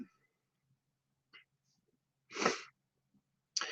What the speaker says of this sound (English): I've been doing that lots and sneezing and just generally dribbling out my nose